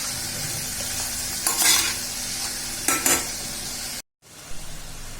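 Peas, curry leaves and asafoetida being sautéed in a pan: a continuous close sizzle broken by a few scraping stirs of a utensil, with a brief cut to silence near the end before the frying resumes.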